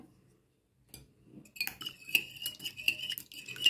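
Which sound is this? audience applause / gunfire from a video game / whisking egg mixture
whisking egg mixture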